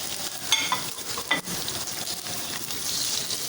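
Chicken frying in hot oil for karahi, a dense close sizzle with occasional clinks and scrapes of a spoon against the pot, no talking.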